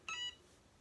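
A Cricut EasyPress heat press timer gives one short, clear electronic beep, close and fairly quiet, followed by silence.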